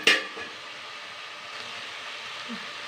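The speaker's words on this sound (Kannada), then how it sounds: "ಎಣ್ಣೆಯಲ್ಲೇ ಫ್ರೈ ಆಗಲಿ" Potatoes and toor beans frying in oil in a pan, with a sharp clink at the start followed by a soft, steady crackling sizzle, fairly quiet and with no one talking.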